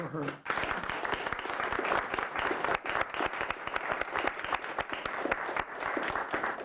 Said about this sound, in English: I just want to applaud Lauren tonight for her